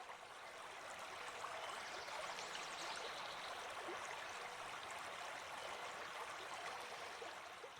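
A river stream flows in a steady, even rush of water, moderately distant and soft, with no voices.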